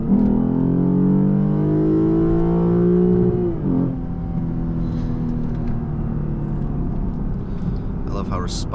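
A tuned Lexus IS350 with full bolt-ons revs up in a rising, loud engine pull on a smooth road, then shifts and settles into a lower steady drone; the climb is heard from inside the car, no talking.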